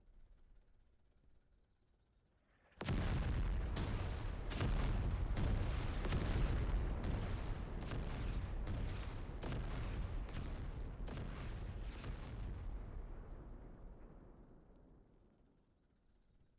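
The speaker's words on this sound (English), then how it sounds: "the strongest one is a creeping barrage, and it drops a whole bunch of very large shells in a line" A creeping artillery barrage in the WWI video game Over The Top drops a line of very large shells, starting abruptly as a dense run of heavy booming impacts that rumble continuously for about ten seconds and then fade away.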